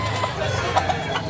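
Chickens cluck in short, scattered bursts over a dense, steady background din at a chicken market in Tabunok, Cebu, with several birds close by.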